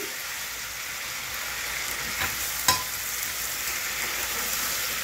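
Red chillies frying in oil in a pan, a steady close hiss with a couple of brief scrapes as they are stirred, no voices.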